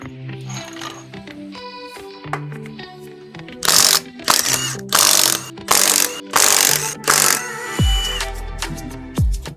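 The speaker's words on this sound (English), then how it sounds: "first thing I'm going to do is get the front end jacked up, get the wheel off so we can get at the brake caliper" Ratchet wrench clicking in several bursts while the front end of a motorcycle is jacked up and the wheel removed, close and fairly loud, ending with a low mechanical rumble.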